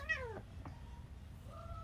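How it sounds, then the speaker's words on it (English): A pet cat in a home kitchen gives a clear, close meow, followed after a pause by a softer second meow, with no one talking. "My cat says hi."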